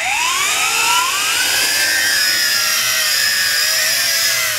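YiZhan Tarantula X6 quadcopter lifting off, its motors whining loudly with a steady high buzz that rises in pitch as the throttle comes up, close and continuous with no talking.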